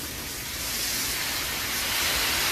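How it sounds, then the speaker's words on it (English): Honey soy sriracha sauce sizzles in a hot pan, giving a steady, bright hiss that swells slightly and carries on without a break, close and alone. "Sizzle, baby, sizzle."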